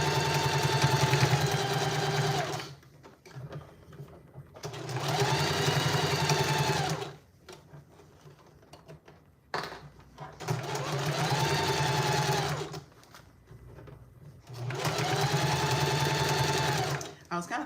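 A sewing machine stitches a fabric book or Kindle sleeve in four steady bursts of rapid mechanical whirring, each a few seconds long, separated by short pauses, close and clear.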